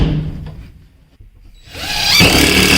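A handheld impact gun drives a screw into a drywall patch piece: a quiet, muffled stretch gives way to a loud, sustained whirring burst that builds and holds through the second half.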